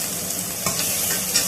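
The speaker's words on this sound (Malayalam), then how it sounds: "അത് ഒന്ന് വഴറ്റിക്കൊണ്ടിരിക്കുകയാണ്" Vegetables for moong dal vegetable khichdi sauté in a pressure cooker, giving a steady, close sizzle of frying with a brief scrape of stirring partway through.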